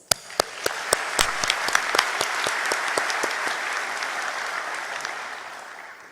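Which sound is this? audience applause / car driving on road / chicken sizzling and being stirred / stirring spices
audience applause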